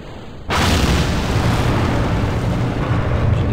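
Progress MS-16 cargo rocket ignites and lifts off with a sudden, massive roar that erupts from near silence and holds as a loud, continuous, crackling rumble with no voices.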